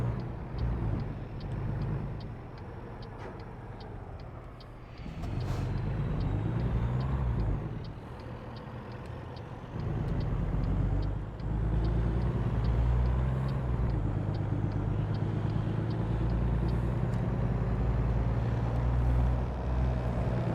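Truck engine from the driving game American Truck Simulator: a steady low motor drone with faint regular ticking above it and brief dips around shifts, running continuously with no talking.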